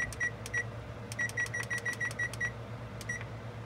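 An oven control panel being set to preheat gives a run of short, high electronic beeps, single then rapid in quick succession, then a final pair, clear over a low steady hum.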